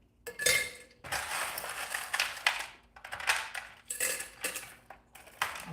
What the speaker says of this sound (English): And we're gonna throw some ice in your shaker here,